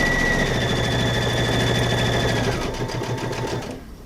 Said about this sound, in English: So I'm going to sew my seam here.